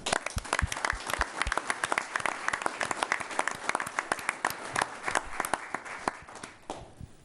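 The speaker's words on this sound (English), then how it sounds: "So I just want to make sure we give them a round of applause." A small room of people clapping at a village board meeting, loose individual claps close to the mic with sharp irregular hits, steady for several seconds, then tapering off near the end.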